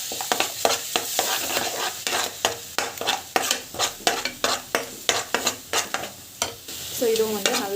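Pureed tomato with garam masala sautéing in a pan for paneer curry, a rhythmic series of spatula strokes scraping and stirring over a continuous sizzle, close and fairly loud.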